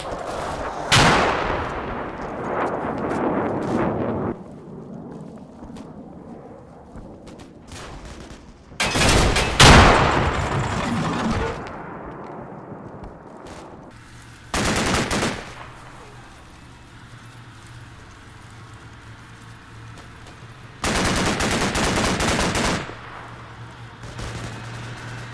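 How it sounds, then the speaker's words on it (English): Bursts of .50 cal machine gun fire from a BTR in Combat Mission Cold War, several separate loud rattling volleys spaced apart, with quieter battlefield noise and a voice talking in between. "BTR slows it down with the 50 cals and then follow it up with a Dragon."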